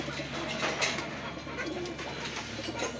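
Pigeons coo softly and continuously nearby, low rolling calls overlapping in a loft with faint background noise.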